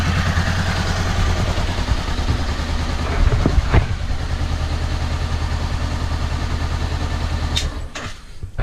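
A Honda CBR500R motorcycle engine idles steadily after an oil and filter change, a close, even low-pitched thrum with a couple of brief clicks and clanks before it cuts out near the end.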